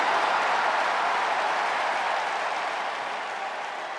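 Arena crowd in the wrestling video game WWE 2K23, a dense, steady roar of cheering and applause that fills the space evenly and fades slightly toward the end, with no talk over it.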